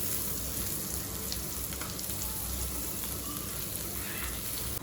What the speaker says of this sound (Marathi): आता मी जिरं टाकते, बारीक कट केलेली लसूण, हिरवी मिरची.